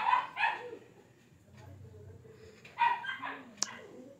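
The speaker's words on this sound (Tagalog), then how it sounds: "Ayan ay aso." A dog barks a few sharp times close by, with short yips between quiet stretches, ending in one high squeak.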